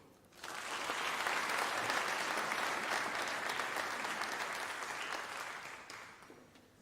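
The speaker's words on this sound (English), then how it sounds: "I thought Prof required even a more resounding applause, colleagues." Audience applause at a university autumn graduation ceremony, rising quickly into a full sustained ovation from a large hall crowd that slowly tapers off near the end.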